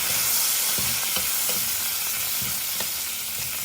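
Spices, dried red chillies, curry leaves and a pinch of turmeric crackle in hot oil in a pan for a tomato chutney tempering. A steady close sizzle runs throughout with light stirring scrapes and no voices.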